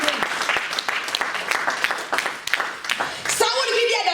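A church congregation breaks into steady applause that fills the whole stretch, with the preacher's voice rising over the clapping near the end.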